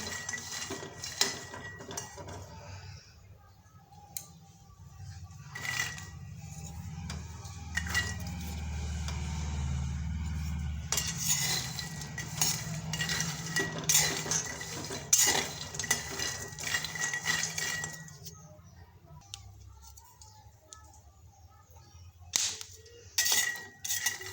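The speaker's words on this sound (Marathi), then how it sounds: "भाजून घेऊ खरपूस कमी स्पीडवर हे शेंगदाणे मस्तपैकी आपल्याला भाजून घ्यायचे आहेत" Peanuts dry-roasting on low heat in a pan for crunchy fasting peanut chikki, stirred constantly with a spoon that scrapes and clinks against the metal, over a low rumble. The rattling goes on for the whole stretch, close by with no talking.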